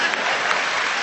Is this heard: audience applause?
yes